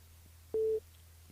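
A single short telephone tone sounds after a caller hangs up on a live radio phone-in, a steady mid-pitched beep about a quarter second long over a low constant hum, fairly loud and alone.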